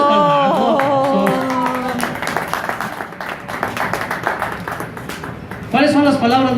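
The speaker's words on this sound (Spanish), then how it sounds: "aplausos para el mago" A children's show audience applauds a magician with a clown present, giving several seconds of rapid, scattered clapping between stretches of lively talking and calling at the start and end.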